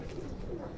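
Kasuri pigeons giving soft low coos, faint and brief, heard close by.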